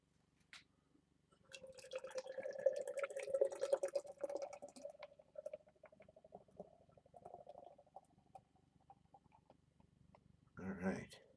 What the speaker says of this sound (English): Hear that nice nitro